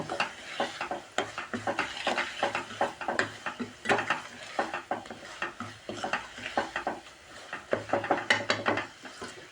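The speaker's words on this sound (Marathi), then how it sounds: "आता हे छान परतून घ्यायचं आहे आपल्याला." Masala paste for a Khandeshi dal fries in oil while a spoon scrapes and stirs it, producing rapid, rhythmic scraping strokes over a low sizzle, close and fairly loud throughout.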